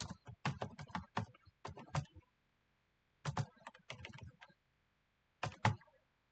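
Keys clatter on a computer keyboard while HTML input tags are entered, in short bursts of quick clicks with pauses between, close and fairly quiet with no talk.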